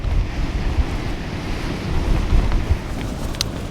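Strong wind gusts buffet a one-person tent during a high-wind test, a loud continuous roar with heavy low rumbling and mic buffeting, steady throughout with no voices.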